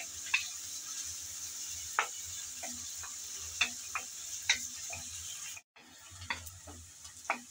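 Chopped onion and garlic stirred and frying in a pan: a steady soft sizzle with intermittent scraping clicks of a spatula, nearby, briefly cutting out then resuming.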